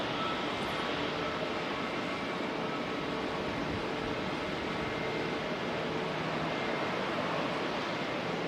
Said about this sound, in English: ATR arrival in the background there from Palmerston North.